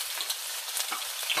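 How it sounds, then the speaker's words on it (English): Seasoning sautéing in a pan over a fire makes a close, continuous hissing sizzle with slight flickers, steady and moderately quiet throughout. "So I'm going to just saute"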